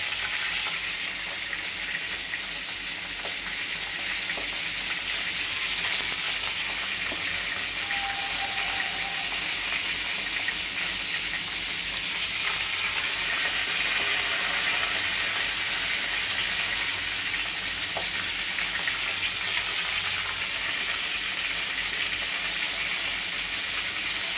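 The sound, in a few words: frying eggplants in spiced oil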